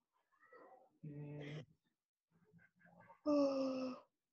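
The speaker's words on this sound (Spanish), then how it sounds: "hasta acá se escuchó el bostezo" A person gives a drawn-out vocal yawn with a gasping, groaning tone, preceded by softer breathy sounds in a quiet room.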